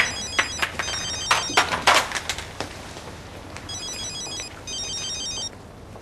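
A mobile phone rings with a repeating electronic ringtone in two bursts, preceded by several sharp clatters and knocks nearby.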